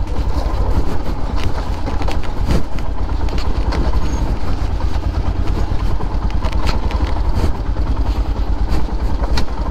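A motorcycle engine running loud and close on a slippery, muddy off-road track, with a steady rough drone and irregular knocks and rattles from the uneven ground.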